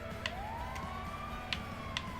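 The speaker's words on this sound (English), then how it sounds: "We're going to keep the siren on because it just hopefully will get the AI out the way a bit." An ambulance siren in the Transport Tycoon video game wails steadily and close, its rising tone held under a few sharp clicking blips, with no talking.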